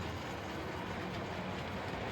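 A six-coach model railway train runs steadily along its track at a layout, giving a continuous, even rolling rumble with no talk over it.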